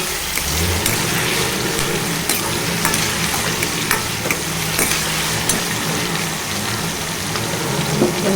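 Chenchela leafy greens sizzle and cook in a pan while being stirred, a steady close frying hiss broken by repeated scraping and clinking of the spoon against the pan.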